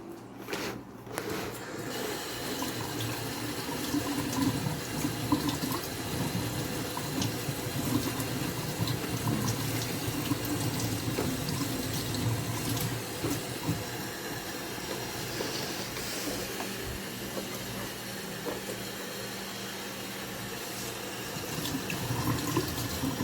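Asparagus stalks are rinsed under a running kitchen tap, a steady, close hiss of flowing water that spatters and shifts slightly as the stalks move through the stream, with no talking.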